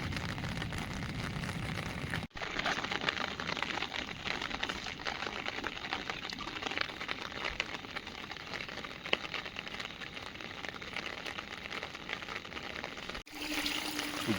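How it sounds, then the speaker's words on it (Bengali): Heavy monsoon rain pours down over flooded paddy fields beside a river, making a dense, steady hiss of water that runs almost unbroken, with two brief dips, and no voices. "বৃষ্টির ফোঁটা বন্ধ হচ্ছে না।"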